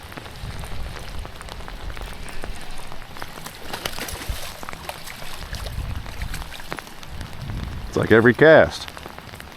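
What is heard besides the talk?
heavy rain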